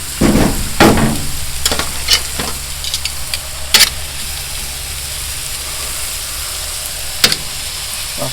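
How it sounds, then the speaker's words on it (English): Mushrooms and onions fry in butter with a steady, close sizzle, broken by occasional clinks and scrapes of stirring. "nothing better than mushrooms and onions fried in butter"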